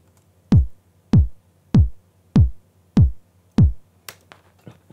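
Electronic kick drum from a Logic Pro EXS24 sampler kit (Single Drums Kicks, Electronic Kits C110) strikes six times at an even pace, each a loud, deep, booming thump with a short decay, followed by a few fainter hits and clicks.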